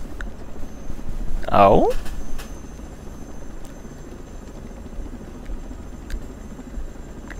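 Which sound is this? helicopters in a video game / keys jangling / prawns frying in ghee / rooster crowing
helicopters in a video game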